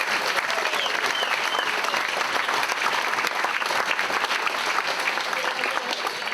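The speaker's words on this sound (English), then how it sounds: "So please give yourself a round of applause." A crowd at an end-of-season football club player awards night applauds steadily and loudly, a dense, even wash of clapping that holds for several seconds without pause.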